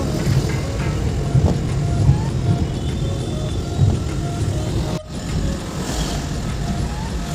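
A cab heading to a railway station rolls along with a steady engine drone and road rumble from inside the car, with a few soft bumps and no speech.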